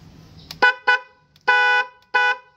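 A newly installed motorcycle horn is tested in four short honks at close range: two quick blasts, then a longer one and a final short toot, each loud and tonal with silence between.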